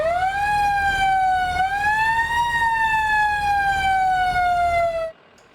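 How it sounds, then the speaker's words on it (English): A new Shelby Fire Department fire truck's siren wails loud and close in a single long, steady tone that rises slightly and then slowly falls before cutting off abruptly, with no voices. "Additionally, it includes their first ever fire-specific siren."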